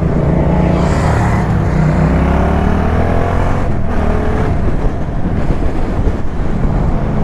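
A Yamaha MT-07 or Ducati Monster 600 motorcycle pulls away on a road in loud, steady engine roar with rising revs, heavy wind buffeting the microphone throughout.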